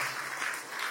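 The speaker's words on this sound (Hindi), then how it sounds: "ताली बजा दो अपने लिए" A crowd claps for itself at a spiritual gathering class, steady dense applause filling the moment with no voices over it.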